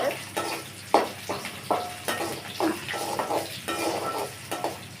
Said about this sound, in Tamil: போட்டு நல்லா நறுக்கி வதக்கி விடுங்க